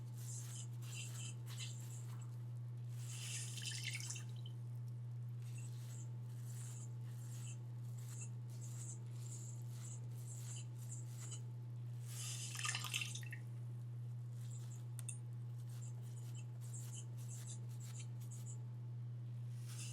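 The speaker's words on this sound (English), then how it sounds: "If a lot of water oozes through the mesh, take your sponge and blot off any excess water." Scattered water drips from a wet papermaking mold and sponge being blotted over damp cloth, small irregular drops and trickles close by over a steady low hum.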